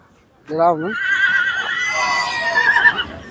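A horse at the Dewa fair whinnies loudly and close, a long wavering neigh that starts with a shaky rising cry and holds for nearly three seconds over crowd hubbub.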